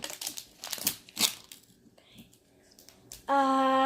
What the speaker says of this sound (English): So I have to unwrap all of this.